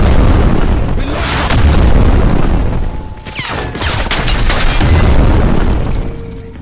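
Rocket launcher fire in the shooter Crysis Remastered booms loudly amid sustained, heavy blasts and rumbling explosions, a dense, continuous wall of gunfire-like noise with a brief dip in the middle.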